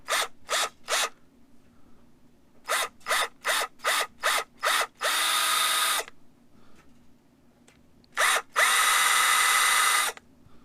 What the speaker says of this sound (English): using a countersink bit, we're just going to countersink these slightly to allow for the taper of our screw head